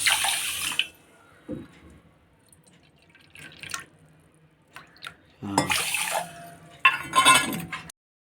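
Water trickles and splashes in short bursts with quiet gaps between, close by, as about one and a half bowls of water are poured onto sugar for syrup.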